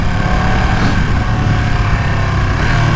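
A 2020 Ducati Panigale V2 motorcycle engine runs steadily at close range on a road ride, with a continuous mechanical drone and rumble at even loudness throughout.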